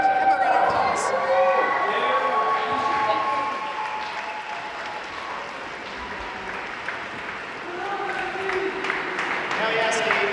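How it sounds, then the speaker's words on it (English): An audience at a Tulsi Gabbard town hall in San Francisco applauds, steady moderate clapping that dips in the middle and swells again toward the end. "So give him a round of applause."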